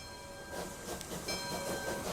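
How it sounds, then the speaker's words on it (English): A steam train with ore hopper cars idles and rolls in the Transport Fever 2 railway game, a steady mechanical rumble with a thin sustained whistle-like tone, heard alone. "this train will basically need to wait at the station to pick up its load"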